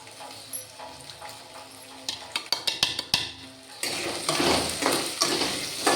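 Potatoes frying in a pan with a broad steady sizzle, stirred with a utensil that knocks and scrapes against the pan in a quick run of clatters, then the sizzle swells louder and brighter, close up.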